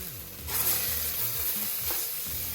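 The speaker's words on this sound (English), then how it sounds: "let's add the butter into the mix" Butter sizzles in a pan on a gas stove with onions, with a steady hiss and crackle as it is stirred, making soft scraping movements through the frying.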